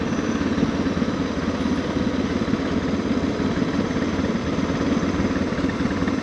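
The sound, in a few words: adventure motorcycle arriving at Pikes Peak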